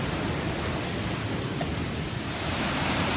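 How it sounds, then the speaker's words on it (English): Steady, loud broadband roar of the lower waterfall in Bells Canyon, water rushing continuously without pause, close by and filling the whole clip. "So that's the waterfall right there."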